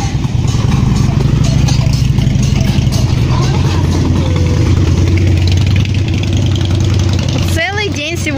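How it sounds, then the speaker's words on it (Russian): Steady loud engine roar at a Crimean holiday camp, rumbling and idling continuously close by, with people talking over it and a sharper rising rev near the end. "Рев моторов по базе. Сплошной рев моторов."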